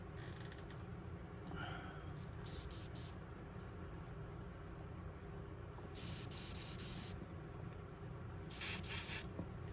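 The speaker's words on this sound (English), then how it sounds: "I'm gonna spray it with this tonight." Short bursts of hissing paint spray from a spray gun come in three separate blasts, each about a second long, over a steady low mechanical hum.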